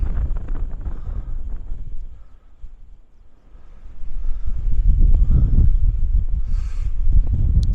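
Strong wind gusting across an elevated ancient hillfort in County Carlow, roaring and buffeting the microphone with loud rumbling bursts that ease briefly before swelling again.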